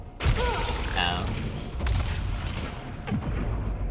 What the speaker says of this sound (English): The Pyro Shellcaster. Explosion radius and explosion delay.